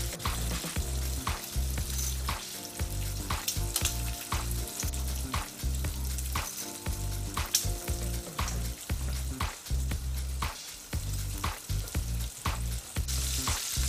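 Guanciale fries in a pan with a steady sizzle, broken by regular clinks and scrapes of stirring, close and continuous.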